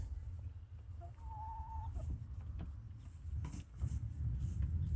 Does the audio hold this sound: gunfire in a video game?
no